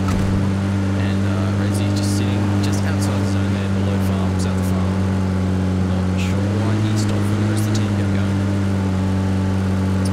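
Car engine droning steadily while driving in PUBG during a competitive match, a constant low hum running throughout with sharp gunshot-like cracks scattered above it and a commentator talking over it.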